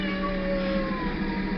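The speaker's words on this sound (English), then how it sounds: "Oh, that's my cat." Cat meows in an old-time radio drama, one drawn-out, slightly wavering meow heard clearly over a steady low hum.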